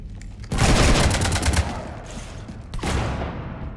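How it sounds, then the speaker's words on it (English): Rapid gunfire in Mass Effect 3 hits a ship, a loud close burst of automatic shots lasting about a second, dying away and then a second shorter volley after a brief gap. "You want to stop shooting up my ship?"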